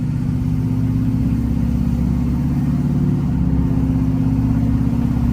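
A 6-liter diesel truck engine idles close by, loud and steady with an even low rumble and rhythmic clatter, heard alone without talk.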